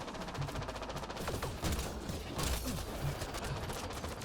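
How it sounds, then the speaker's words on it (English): Rapid gunfire in the PC game Mass Effect Andromeda, dense overlapping bursts of shots running continuously at moderate level with no talk over them. "I'm shooting over that guy."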